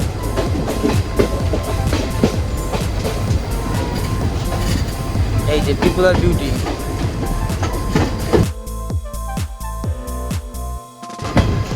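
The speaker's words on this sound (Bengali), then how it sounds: "এই যে একটা সুন্দর বিউটিফুল কার্ভ নিচ্ছে ট্রেনটি আমাদের।" The Silchar Express, running from Agartala to Silchar, rolls along a curve past the Haor river with a loud continuous rumble and rattle of wagons, rhythmic clicks toward the end, and someone speaking over it.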